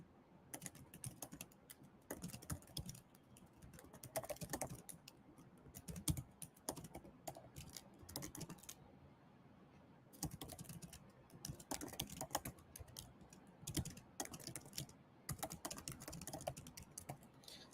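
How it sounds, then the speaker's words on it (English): Steady run of computer keyboard typing as a prompt is entered for an AI tool, dense clattering keystrokes in quick bursts with short pauses, close and clear, no talk. "So let's type here."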